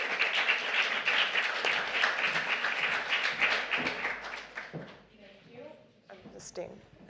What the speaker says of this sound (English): give a round of applause to the person who made this segment possible, Brooke Harlander from St. John Properties.